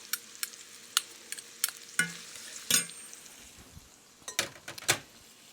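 Crushed garlic cloves dropping into a hot pan for chicken kabsa, giving quiet intermittent sizzles and crackles with scattered clinks of a spoon against the pan, close by and without talk.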